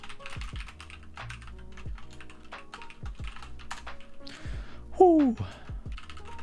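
Rapid, dense clicking of a computer keyboard during a typing test, heard close up and running continuously, with a brief vocal exclamation near the end.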